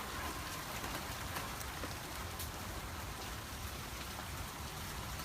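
Steady rain falls outdoors, a continuous broadband hiss of drops hitting surfaces, even and moderately loud throughout with no voices.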